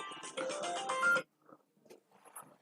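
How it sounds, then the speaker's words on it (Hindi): A phone ringing during a Hindi maths class, a short electronic ringtone burst of about a second, fairly loud, followed by scattered faint sounds and near silence. "फिर फोन आ रहा है"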